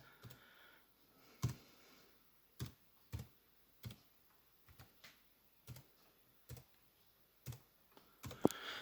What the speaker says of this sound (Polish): hasełko trzeba wpisać. No dobrze, to wpisujemy.